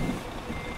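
Reversing beeps from a Bangladeshi Desh Travels bus backing up in heavy rain and heavy traffic: a steady electronic warning tone over a constant engine and road rumble, close and moderately loud.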